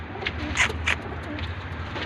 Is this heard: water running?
no